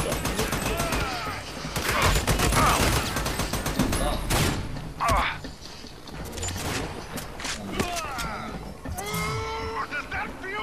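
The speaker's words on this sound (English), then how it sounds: "instantly get shot at by every gun" Gunfire in the video game Army of Two, with dense bursts of shots and mechanical clatter running throughout, mixed with people talking over the game sounds.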